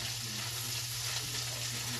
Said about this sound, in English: Constantly stir your bacon